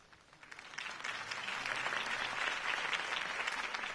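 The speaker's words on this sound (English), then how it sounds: "If only Mr. Wayne, my campaign's largest backer, could have heard that applause" A crowd applauds after a campaign speech in the Batman Telltale video game, the clapping swelling from quiet to a steady, dense roar and holding without voices.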